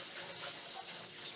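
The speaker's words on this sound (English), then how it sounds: "You want to make sure that you clean your chicken really nice, guys. Alright, so you wash it, mix it around for a couple minutes." Raw chicken breast being washed by hand under a running kitchen tap, a steady close rush of water with faint splashing as the pieces are moved around, no voices.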